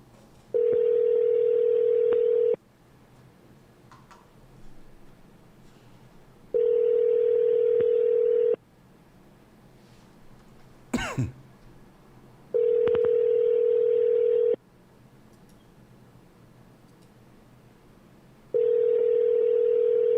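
Telephone ringback tone while calling a main number, four evenly spaced two-second tones separated by about four seconds of quiet, clear and close on the line.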